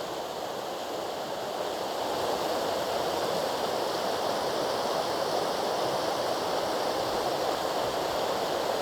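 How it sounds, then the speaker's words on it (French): Continuous rushing water of an underground river, a broad steady roar like a flowing stream, loud and unbroken throughout. "Écoutez le son de cette rivière souterraine."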